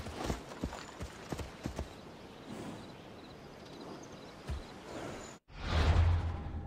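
A horse's hooves in Assassin's Creed Odyssey clip-clop at a steady pace over soft ground, with whooshing movement and a sudden louder rush near the end.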